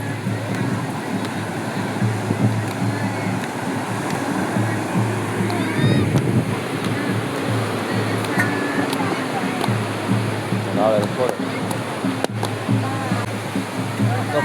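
Seawater washing up onto the shore during a Dashama idol immersion, a continuous broad rushing surge under excited voices calling out nearby, steady and fairly loud throughout.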